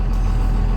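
Old, cheap Cummins diesel truck idling, a loud, steady, deep rumble heard close by for a brief moment with no voices.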